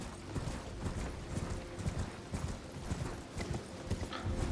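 Horse galloping in the Elden Ring video game, fast continuous rhythmic hoofbeats, close and steady over a dense background of game sound.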